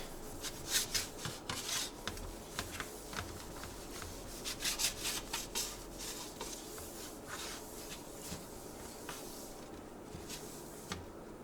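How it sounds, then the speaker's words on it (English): Butter being rubbed onto a cookie sheet lined with parchment paper, producing soft, close, repeated rubbing and scraping strokes that come in bursts and then fade to a quieter steady rub. "I'm just going to rub butter on the cookie sheet so the cookies don't stick."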